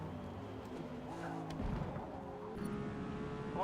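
A V12 Lamborghini races in the Forza Motorsport video game, heard from inside the car as a muffled engine drone that shifts pitch with gear changes, fairly quiet and steady with no talking over it.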